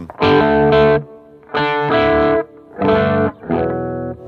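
Heavily distorted electric guitar playing two-note chords on an Ernie Ball 7-string through a JP2C amp's channel 2, four loud sustained phrases separated by brief gaps.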